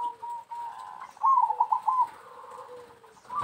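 A perkutut (zebra dove) coos close by in a soft, rolling series of quick trilled notes, moderately loud, with a faint hum and light handling noise around it.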